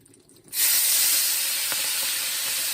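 Collard greens dropped into a hot iron skillet set off a sudden loud, steam-heavy hiss and sizzle that bursts in after a quiet moment and holds strongly, easing only slightly.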